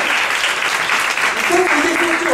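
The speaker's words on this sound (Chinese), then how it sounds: "用掌声献给耶稣啊！" A church congregation claps together during a Saturday worship service, a dense, loud, steady wash of applause with a voice rising faintly over it toward the end.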